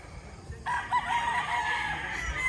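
A rooster crows loudly nearby while other chickens cluck in the background, with a farmyard murmur underneath, at a Philippine gamecock farm holding over 100 birds.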